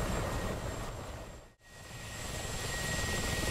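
The engine and rotor of a Mi-24P Hind attack helicopter in the DCS flight simulator give a steady, loud roar that dips sharply to near silence for an instant midway, then swells back.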